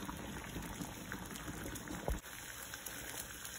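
Water boiling with an NES 72-pin connector in the pot, a steady soft bubbling hiss heard close and quiet, with one brief knock partway through and no talking.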